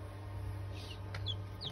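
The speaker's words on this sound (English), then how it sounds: "We've got chicken." Small chicks and chickens in a back garden chirp with a few faint, brief peeps over a steady low hum.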